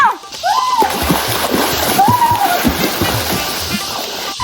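Splashing and sloshing water in a swimming pool, continuous and close, with excited voices and shouts mixed over the churning water throughout.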